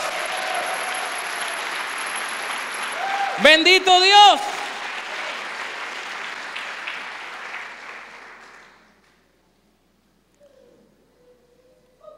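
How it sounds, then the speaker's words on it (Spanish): Church congregation applauding loudly and steadily under a pastor's shouted praise, with a brief burst of voices in the middle before the clapping fades out, leaving near silence. "Vamos a darle un aplauso al Rey de Reyes."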